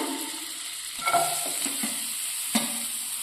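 Steady sizzling of butter frying in a wok, with a few scraping stirs of a utensil against the pan.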